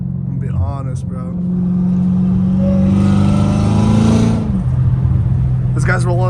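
Supercharger whine rises from a catless Dodge Challenger Hellcat Redeye with catback exhaust as it accelerates, a loud sustained tone climbing in pitch over a few seconds before cutting off, with someone talking over it at the start and end.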